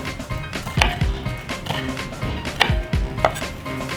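A knife chops on a cutting board in several uneven strokes, sharp thuds and crunches up close, with soft handling noise between cuts.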